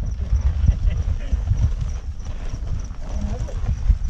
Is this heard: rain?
no